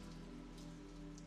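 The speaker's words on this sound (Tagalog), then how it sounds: "yung mahinang pagtunog ng ulan sa labas" Light rain falls steadily outside, a soft continuous patter with faint droplet ticks and no voices over it.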